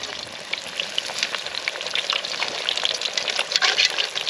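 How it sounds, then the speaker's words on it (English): Beer-battered Spanish mackerel shallow-fries in hot oil at a camp cook, a steady crackling sizzle with sharper pops, close and alone. "That oil was pretty hot when we dropped in, but like with any frying, you put a bit of stuff in there, it cools the oil down."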